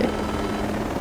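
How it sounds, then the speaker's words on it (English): Helicopter flying low in the video game Ghost Recon Breakpoint, a loud, close, continuous rotor thump and engine roar. "We've had the helicopter for 200 meters and nearly wrecked it already."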